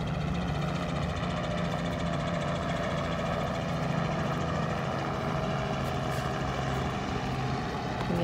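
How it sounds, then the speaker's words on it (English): A helicopter drones steadily overhead in Key West, a constant low thrumming rotor sound that holds at an even volume throughout. "Oh, chopper up there."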